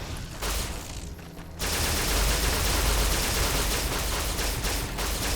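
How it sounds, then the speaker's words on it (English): A recharging energy pistol in Fallout: New Vegas fires amid heavy combat noise. The quieter opening gives way to a loud, continuous barrage of overlapping shots and explosions, a sustained roar of gunfire. "Plus I have unlimited ammo with my recharging pistol thingy."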